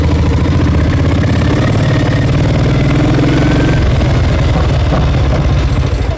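The loud, chugging engine of an NSU 601 TS motorcycle with sidecar idles steadily up close, then its note shifts and thickens as it pulls away in first gear.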